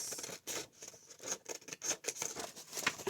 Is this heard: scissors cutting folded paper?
yes